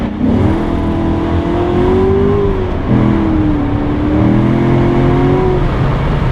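A Corvette C7 sports car spinning its tires, with a loud, steady engine roar and a wavering whine that holds throughout, close by and with no voices.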